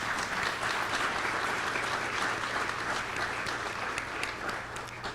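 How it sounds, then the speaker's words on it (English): Audience applause for award winners at a Teacher of the Year presentation, a dense, steady wash of many hands clapping throughout, easing slightly toward the end. "Let's give them one final round of applause."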